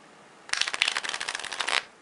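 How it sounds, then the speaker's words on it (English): Deck of playing cards riffle shuffled by hand, a dense, crisp fluttering burst of about a second and a half, close and alone, ending with a brief settle. "you riffle down, you go over, you catch with the thumb, knock them together if you need a square"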